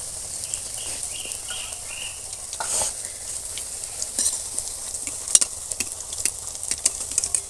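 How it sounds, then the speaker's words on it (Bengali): Eggplant fritters (beguni) frying in hot oil, giving a steady close sizzle with irregular crackles and pops and a few light utensil clinks, without speech. "আমি এদিকে আবারও বেগুনি দিয়ে দেবো আওয়াজটা শুনেই বুঝতে পারছেন বন্ধুরা কতটা মজমচে হচ্ছে"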